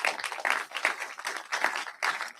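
An audience applauds in a hall, with a steady patter of many hands clapping at moderate volume and no break in the sound.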